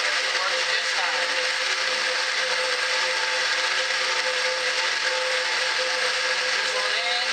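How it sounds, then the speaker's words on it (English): A kitchen blender whirs continuously at a steady high pitch, a constant mechanical whine with no pauses. "I like my old school blender. It works just fine."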